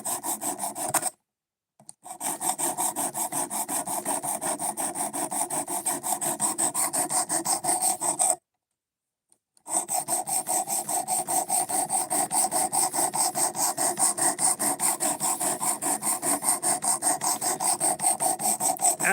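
A blade is drawn back and forth over a grit sharpening stone in fast, even rasping strokes, loud and close, continuing for long stretches broken by two brief silent pauses.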